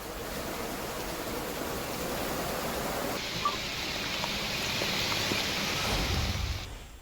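Heavy pre-monsoon rain falling in Pune, a dense, even wash of noise that holds steady throughout and fades slightly at the close, with no voices.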